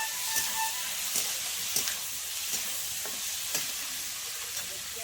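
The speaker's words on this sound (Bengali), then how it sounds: "আলু পেঁয়াজ একটু ভাজা ভাজা করে নেব 2 মিনিট মতো।" Potatoes and onions fry in a pan for a prawn dish, giving a close, steady sizzle and hiss broken by a few regular stirring scrapes.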